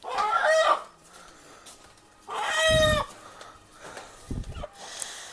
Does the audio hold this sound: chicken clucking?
yes